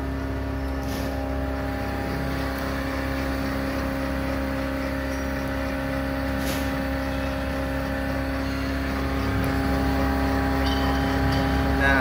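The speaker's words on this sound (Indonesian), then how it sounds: "Ini adalah mesin supercharge 2 HP." A 2 HP supercharger aeration blower for a biofloc tilapia fish pond runs with a steady, loud, droning mechanical roar and constant hum, unbroken throughout.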